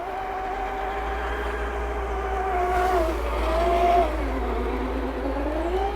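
A large 50-kilo RC land-train trail truck, a custom build costing over $5000, drives along an outdoor trail with a steady electric motor whine that rises and dips in pitch over a constant low rumble, close and fairly loud throughout.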